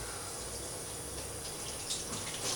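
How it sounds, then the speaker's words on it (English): Mushrooms rinsed under a running kitchen tap, a steady close hiss of flowing water that holds evenly throughout with no voices. "I'm going to give them a quick wash because they grow underground"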